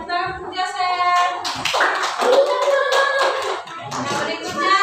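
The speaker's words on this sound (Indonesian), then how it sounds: "Tepuk Jasen" Classroom children clap together for a classmate in a quick, rhythmic pattern, mixed with loud group chanting voices throughout.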